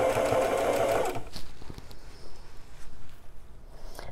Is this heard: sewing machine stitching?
yes